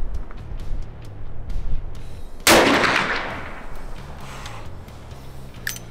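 A Colt Anaconda .44 Magnum revolver fires a single loud, sharp shot that rings out and decays over a couple of seconds amid faint background clatter and rustling.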